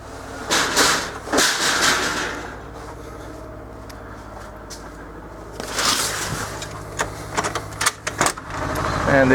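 A backup generator engine runs steadily in the background with a constant low rumble, while louder clatter and knocks come and go over it.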